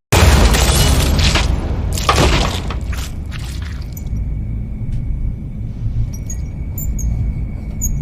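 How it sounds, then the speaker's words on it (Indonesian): A walkie-talkie explodes in a man's face in a horror film scene: a sudden loud blast with shattering and a deep rumble, then a fading low roar with faint high debris tinkles. "Seketika HT yang dipegang oleh Chad meledak tepat di wajahnya"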